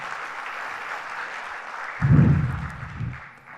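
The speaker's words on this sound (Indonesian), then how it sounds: "Tepuk tangan untuk Pak Besar" Audience applause at a business review forum event, starting suddenly after a stretch of room noise and lasting about a second as a brief, fairly loud burst before fading.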